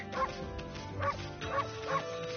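Amaterasu, the wolf goddess of the video game Okami, gives four short, yipping barks at an even pace, clear and moderately loud over quiet game ambience.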